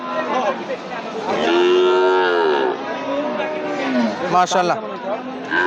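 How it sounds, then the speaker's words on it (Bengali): At a cattle market in Joypurhat, a bull lets out a long, loud, wavering moo close by, with other cattle lowing around it and people chattering in the background. "রিয়াদ ভাই এই হাঁসা গরুটা কত যাচ্ছেন ভাই"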